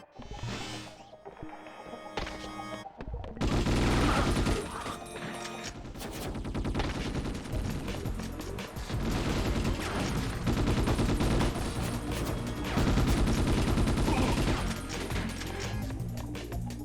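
Assault rifle fire in the video game Ghost in the Shell: Stand Alone Complex comes as loud, sustained rapid shooting, dense overlapping shots with brief breaks and thumps, over game sounds.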